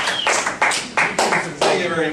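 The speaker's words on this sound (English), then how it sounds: "Nice warm round of applause for his first time here, Evan McNeely." Comedy club audience applause at a live show, a few people clapping in uneven bursts close by, sounding sparse rather than a full roaring crowd.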